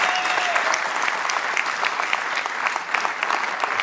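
Studio audience clapping at a televised Schlager music show, loud sustained applause from a large crowd, steady throughout with no speech over it.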